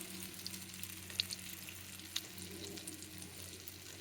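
Egg sizzles and fries in a pan in a home kitchen, a soft steady hiss with a few tiny pops, heard close up and fairly quiet throughout.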